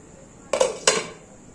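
A metal frying pan set down on a hot tawa, then covered with a lid: two quick metallic clanks close together, the second slightly ringing, against quiet background hum.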